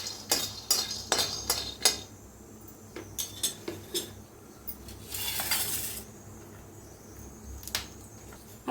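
Peanuts roasting in a pan while being stirred, giving a string of sharp clinks and scrapes at an uneven rhythm, with a brief louder rattling burst partway through and quiet pauses between.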